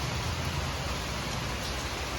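Heavy rain pours down on a home courtyard in a dense, even, unbroken wash of noise that fills the whole moment without any voices.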